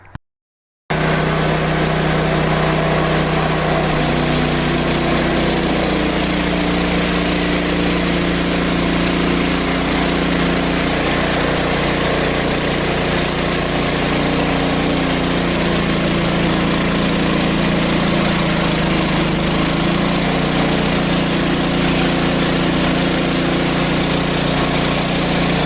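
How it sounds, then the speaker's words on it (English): A portable sawmill's engine runs steadily while a board is cut from a log, a loud, continuous mid-pitched drone with a low hum that holds even throughout, with no talking. "All right, so now we're going to make our next cut"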